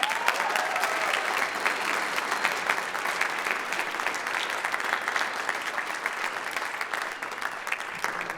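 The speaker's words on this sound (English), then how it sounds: "you can clap" Audience clapping in a school auditorium for a graduating band senior at an Oregon High School band concert, steady and even applause from a crowd lasting the whole stretch.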